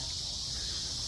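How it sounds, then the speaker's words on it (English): Cicadas drone in a steady, dense high buzz from the trees along Chicago's Lakeshore Drive on a quiet Sunday, filling the air continuously with no other sounds standing out. "You really hear the cicadas."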